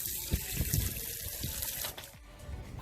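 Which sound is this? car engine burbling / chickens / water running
water running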